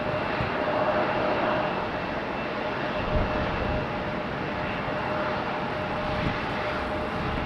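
A United jet airliner arrives at Raleigh-Durham International Airport, its engines a sustained, fairly distant roar with a faint steady whine, swelling slightly in places and running unbroken with no talk.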